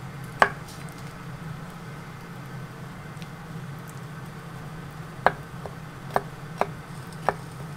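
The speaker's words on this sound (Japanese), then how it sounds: "梅干しは種を取って包丁で叩いておきます。" Kitchen knife chopping pitted umeboshi pickled plums on a cutting board: a sharp knock near the start, then after a pause a cluster of four crisp, close taps, over a steady low background hum.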